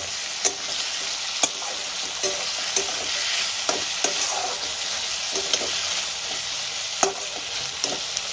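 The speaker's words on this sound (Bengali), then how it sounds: "এবার আলুটা আমি ভেজে নেব" Potatoes seasoned with salt and turmeric fry in a pan under a continuous close sizzle, punctuated by sharp, regular scrapes and clicks of a spatula stirring them, with no voices.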